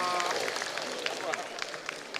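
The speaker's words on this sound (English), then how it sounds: "Please, a round of applause for him." An audience applauds at an AMPP political party gathering, with a steady wash of clapping and scattered sharper claps, while a voice talks over it.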